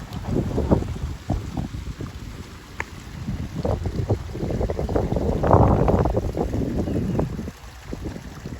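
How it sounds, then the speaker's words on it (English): Wind gusts outdoors while walking along SW 80th Avenue near a small waterfall, a steady broadband rush and rumble that swells and eases, buffeting the microphone without any talk. "You love the sound of the wind and the way it feels in your hair."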